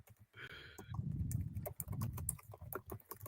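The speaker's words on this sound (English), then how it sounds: "I hear people typing in the background." Rapid, irregular clicking of people typing on computer keyboards in a background, fairly faint clicks scattered over a low rumbling murmur, with no clear voices.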